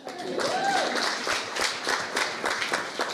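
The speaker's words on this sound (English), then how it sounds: "so applaud yourselves." Wedding guests at a reception give a burst of applause, many hands clapping steadily at close range, with a brief voice at the start.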